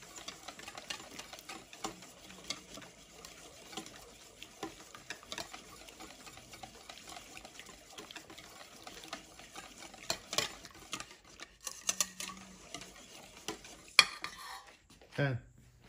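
Sweet potato is stirred in a pot, with soft repeated scraping and clinking of a utensil against the metal over a faint simmer, ending in a few louder knocks and clatters.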